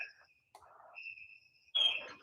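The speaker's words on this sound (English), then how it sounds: "Yes, they are crickets." Crickets chirp in a Kenyan village, thin high trills that come and go, faint and close, with a brief soft rustle between them and a louder scrape near the end.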